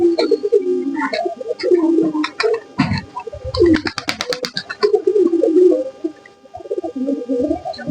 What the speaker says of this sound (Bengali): এটা খাবার খাচ্ছে কবুতরগুলো